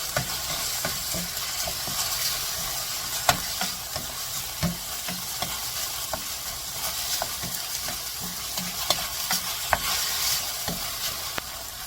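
Meat stir-frying in a small amount of cooking oil for spicy pepper japchae, a steady close crackling sizzle with repeated clicks and scrapes of a utensil stirring through the pan, no voices.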